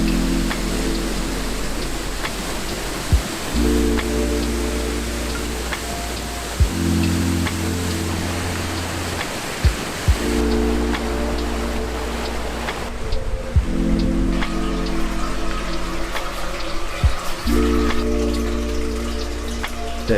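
Shirogane waterfall at Ginzan Onsen in Japan, a steady broadband rush of falling water that stays loud and continuous throughout, with a low rumbling undertone.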